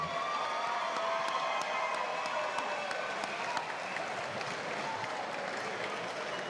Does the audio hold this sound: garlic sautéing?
no